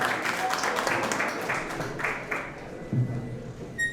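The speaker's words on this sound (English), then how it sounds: "let's encourage her with a heartfelt applause" Applause from a school debate audience welcoming a speaker for the motion, a moderate round of clapping that thins and fades toward the end, with faint voices and a few taps.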